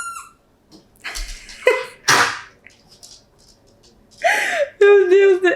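A dog gives a few short, sharp sneezes indoors, separated by quiet gaps, followed by someone talking close up.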